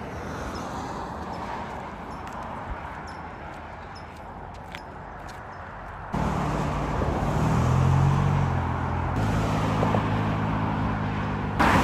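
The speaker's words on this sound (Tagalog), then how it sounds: "Yung mga dumadaan ng mga sasakyan din." Cars on the road beside a beach parking area at Cowell Ranch Beach, California, pass with a soft, distant traffic wash, then a louder, nearer vehicle rumbles by with low engine tones during the second half.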